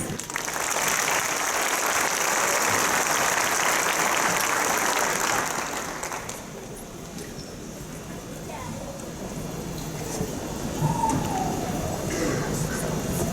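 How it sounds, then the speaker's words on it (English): Loud crowd applause fills a high school graduation ceremony for the class of 2019, a dense wash of clapping that swells for about six seconds, then thins into scattered claps and crowd murmur that picks up again near the end. "Please give a round of applause for the honored guests and dignitaries we have tonight"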